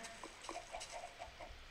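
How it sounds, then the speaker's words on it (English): Minecraft chickens cluck in a coop, a series of short, soft clucks spread through a quiet, faint background, with no talking. "Oh my god, chickens."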